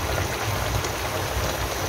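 Water boils in a cooking pot while pork-leg paksiw is being made at home, giving a steady, close, hissing bubble with no voices.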